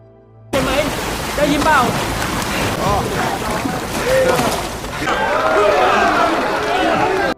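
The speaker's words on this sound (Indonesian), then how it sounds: "Rintikan hujan yang kemarin menjadi musibah kini menjadi sound merdu relaksasi tidur yang mantap." Heavy rain pours steadily in a dense, continuous wash that fills the whole stretch after a brief quiet opening, with scattered bright tonal chirps and clatter mixed through it.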